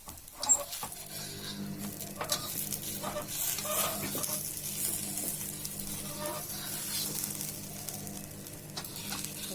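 A corn flour dhebra flatbread fries in oil in a pan over a low flame, giving a soft, steady sizzle and gentle crackle throughout, with a few light scrapes and taps.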